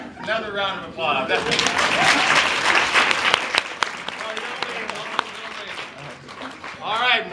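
Sustained applause from a seated audience at a lecture, rising quickly and holding steady for several seconds before fading. A voice comes in at the start and again at the end.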